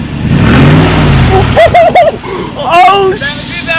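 A Toyota Tundra pickup with its exhaust removed revs once. The raw engine note swells and falls in a brief deep sweep, then excited voices talk over the settling idle.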